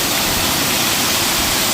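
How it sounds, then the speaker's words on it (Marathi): Heavy monsoon rain with gusting wind, a dense steady roar of broadband noise filling the whole moment, close and loud with no voices over it. "खतरनाक पाऊस आहे बघा आता. वारा वारा"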